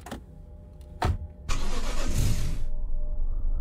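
A car engine starting in Mimic Search: a couple of short cranking clicks, then the engine catches with a loud burst and settles into a steady, close idle.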